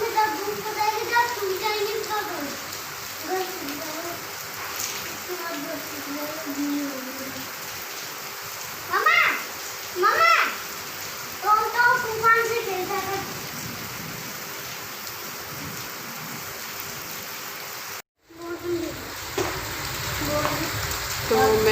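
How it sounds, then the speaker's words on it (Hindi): Steady hiss of the first heavy monsoon downpour of the rainy season falling outdoors, continuous throughout, with children's voices and someone talking over it in places. "अभी हो रही है बारिश और पहली बार हुई है ऐसी बारिश"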